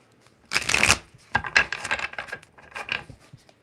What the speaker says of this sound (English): Then we have another deck we're shuffling here.